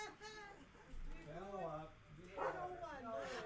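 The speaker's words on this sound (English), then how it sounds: "No barking. Momo." A dog barks and yips repeatedly indoors at a middling distance, its barks woven among people talking and a voice.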